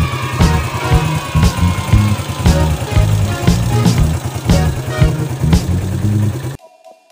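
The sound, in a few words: motorcycle engine running without a battery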